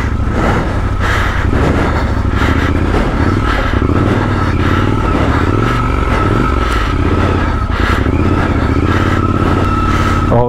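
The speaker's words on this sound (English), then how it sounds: "I forgot how fun it is to get a bike sideways off-road" A Triumph Scrambler 1200 XE engine roars steadily as the bike slides sideways on an off-road trail, a loud, close, continuous engine sound with shifting pitch and clattering over the terrain.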